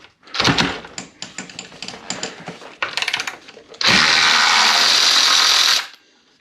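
Main axle bolt being loosened on a KOMOTO M1100 motorcycle, a close series of metallic ratcheting clicks and taps followed by a loud steady whirring burst of a power tool lasting about two seconds.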